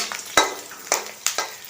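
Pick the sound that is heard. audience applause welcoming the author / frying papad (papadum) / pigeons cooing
frying papad (papadum)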